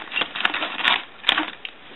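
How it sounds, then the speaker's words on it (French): Scissors struggle to cut open a plastic Hero Factory toy bag, producing close crinkling and snipping with a few sharp clicks in an irregular rhythm. "Mes ciseaux coupent pas très bien."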